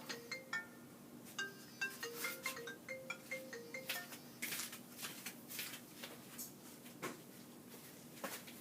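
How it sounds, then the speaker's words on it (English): A phone ringtone plays a faint melodic sequence of short electronic notes, stepping up and down, mixed with small clinking and handling noises nearby. "Oh, it's a new ringtone."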